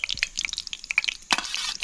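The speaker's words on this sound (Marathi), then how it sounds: "कांदा आपल्याला चांगला परतून घ्यायचा आता" Close, crackling sizzle of onion frying in hot oil, with irregular pops and a brief burst of stirring.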